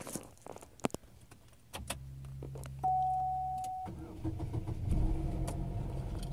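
A 2002 Oldsmobile Alero GL is started: a keyed crank whirs briefly, then the engine catches and settles into a steady, close idle, with a door closing and small handling noises beforehand.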